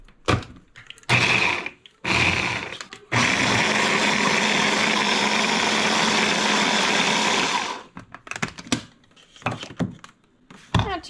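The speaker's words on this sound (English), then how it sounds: "this little food processor here. Put that in there. Put that on there. Dices it up." A small electric food processor dicing food runs in one continuous loud whirring burst of about five seconds, bracketed by clunks and taps as it is loaded and handled.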